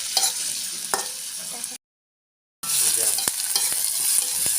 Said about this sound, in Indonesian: saya masak sambal tahu dan ini mau saya goreng